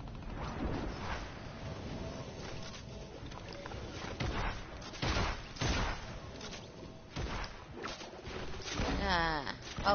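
Rapid gunfire bursts in a video game, sharp broadband cracks scattered across the stretch alongside mechanical clatter, with people talking excitedly over the action throughout.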